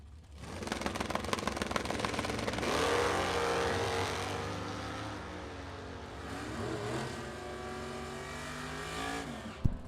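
A Chevrolet Nova and a Pontiac launch side by side at a bracket drag race, engines roaring hard and revving up through gear changes, loud and steady across the run with a sharp burst near the end.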